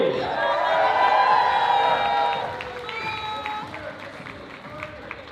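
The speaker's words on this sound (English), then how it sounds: "Can I get another cheer for our Moose family?" A wedding reception crowd cheers for the Moose family in a loud, broad swell of voices that peaks early, then eases into a lower murmur with scattered whoops.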